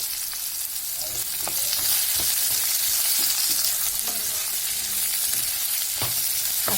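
Tomato chutney frying over a low gas flame, a continuous close sizzle and crackle with occasional clicks and light stirring taps throughout.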